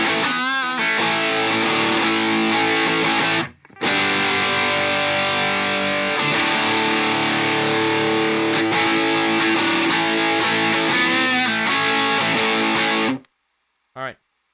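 A heavily distorted electric guitar through an MXR Distortion Plus pedal plays loud chords and riffs, with a brief drop near the start, then cuts off, followed by a quick final hit.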